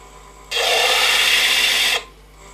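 A lathe-mounted disc sander spinning at 500 RPM sands a wooden piece in one steady, loud, rasping burst of about a second and a half, starting and stopping abruptly over a quiet shop background.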